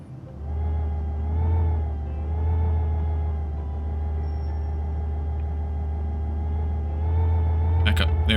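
A rover-like car drives across the Martian surface in the video game 687 Days on Mars, a steady low engine rumble that swells and eases, ending in a few sharp clicks.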